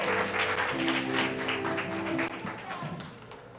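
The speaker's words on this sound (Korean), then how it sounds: "박수해 주시고 들어가 주세요" Church youth-service congregation applauding after a gift presentation to a high-school scholarship student, steady dense clapping throughout with sustained musical tones beneath and some murmuring voices.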